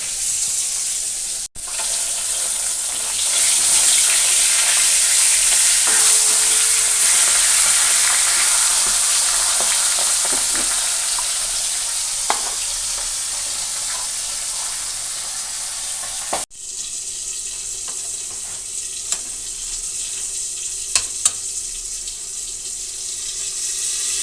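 Hilsa fish heads fry in hot oil, a loud, steady broadband sizzle that carries on without pause, broken only by a couple of abrupt cuts and a few faint clinks.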